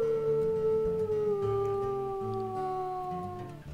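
Long wolf howl in the video game WolfQuest, a loud sustained tone that slowly falls in pitch and fades at the end, over a low rumbling game backdrop.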